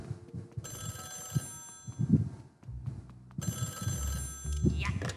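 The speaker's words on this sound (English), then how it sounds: "Oh, the phone." A telephone rings inside the Luigi's Mansion 3 video game in two bursts of bright electronic ringing, with game sounds and a voice talking over it.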